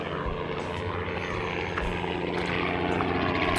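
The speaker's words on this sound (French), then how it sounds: "Attends, j'attends que l'hélicoptère passe." A helicopter passes overhead near an aerodrome, its steady rotor and engine drone filling the outdoor air at moderate loudness throughout.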